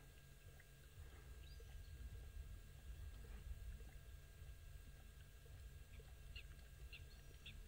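Wild birds call around a waterhole on a live African safari, with scattered chirps and tweets rising over a steady low outdoor rumble, fairly distant and continuous.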